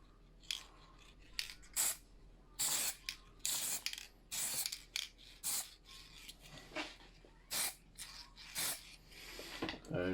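Short bursts of spray paint hiss onto a 50-year-old Matchbox Ford Station Wagon diecast car in yellow enamel, roughly a dozen loud, broadband puffs of varying length separated by quiet gaps and faint handling clicks.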